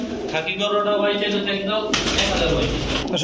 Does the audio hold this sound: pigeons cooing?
yes